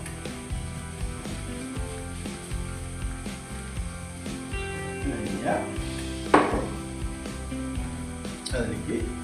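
Chicken masala with coriander powder being sautéed in a pan, a soft sizzle under music with scattered scraping and clinking of the spoon, one sharper knock near the end.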